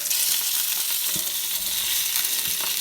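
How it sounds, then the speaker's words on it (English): Meatless sausages fry in a pan with a constant bright sizzle, broken by a couple of soft thumps and scrapes as they are turned, close and steady with no talk. "I'm going to continuously turn them around because as you can see, they are getting nicely cooked on each side"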